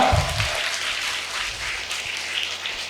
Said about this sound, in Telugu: ఒకసారి లేచి నిల్చొని కొడదామా పత్రి సార్కి చెప్పట్లు